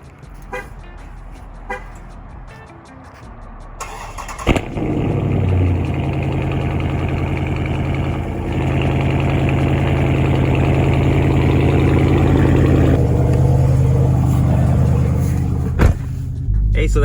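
A Dodge Charger Scat Pack cold starts with a sharp crank and loud bark after some quiet movement, then settles into a deep, steady, rumbling idle close by, with a brief blip near the end.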